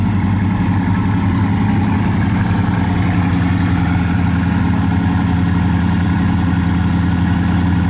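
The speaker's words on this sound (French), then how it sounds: "je viens d'entendre la Chiron Super Sport démarrer juste à côté, là, ici. Waouh, il a appuyé sur l'accélérateur lui." A Bugatti Chiron Super Sport's engine runs close by, with a steady, loud, deep rumble and idle throb that holds throughout, and the revs don't clearly rise.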